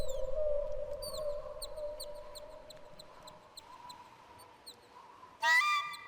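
Synthetic bird chirps from the Myst III: Exile video game, a series of short, thin, downward-sliding tweets repeating over a steady low hum. A louder burst of sound cuts in near the end.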